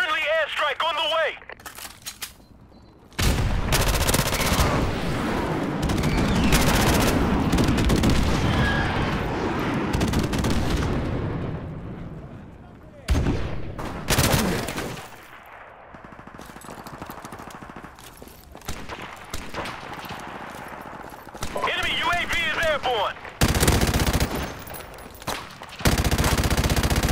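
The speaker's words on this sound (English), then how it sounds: "Friendly airstrike on the way." A first-person shooter battle rages with heavy overlapping gunfire, sustained bursts and booming blasts from a friendly airstrike, broken by brief quieter lulls, while game announcer voices and talk come through now and then.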